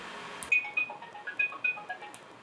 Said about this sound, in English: Please note that weird, I would call, sound that the extension makes.